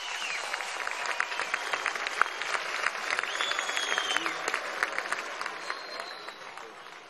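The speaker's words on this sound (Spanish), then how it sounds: "Un aplauso a los soldados de la patria." A crowd at a rally for older adults at Miraflores in Caracas applauds soldiers, bright steady clapping from many hands with a few cheers, held at moderate distance for about seven seconds.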